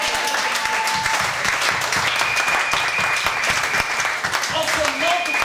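A church congregation applauding to acclaim the Lord during a service, heard as dense, sustained clapping filling the room, with voices and sustained musical tones mixed underneath.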